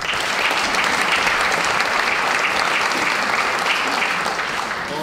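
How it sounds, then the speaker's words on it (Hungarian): Steady audience applause fills a ceremonial city assembly hall for Pécs City Day, loud and continuous with no letup across the whole stretch. "előre is kérnék neki egy nagy tapsot."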